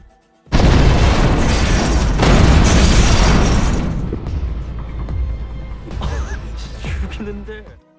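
A huge bomb blast erupts suddenly, loud and booming, followed by a long roaring rumble with crashing debris that gradually thins out.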